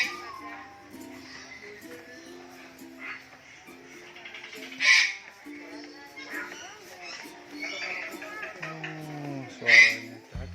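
Parrots in a bird park with many hooked-bill species give two loud, sharp squawks above a busy background of other bird calls and ongoing conversation.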